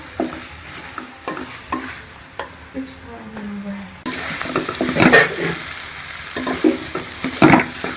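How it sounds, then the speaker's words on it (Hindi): A spoon keeps stirring egg and potato curry in a frying pan over a steady sizzle, with scraping strokes that grow louder and busier partway through. "आपने मुसलसल चम्मच को हिलाते रहना है और आलू को अच्छी तरह अंडों को अच्छी तरह आलूओं में मिक्स कर लेना है"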